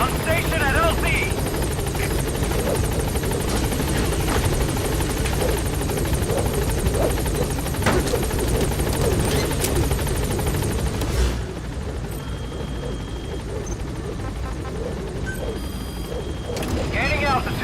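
The B-Quad support helicopter from Metal Gear Solid V arrives at a landing zone, its loud, continuous rotor thrum filling the scene and easing slightly toward the end, with a radio voice speaking over it.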